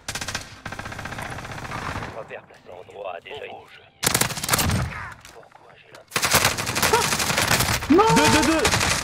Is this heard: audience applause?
no